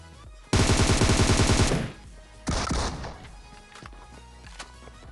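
Video game gunfire: a loud, rapid automatic burst lasting over a second, then a shorter second burst, followed by faint clicks and knocks.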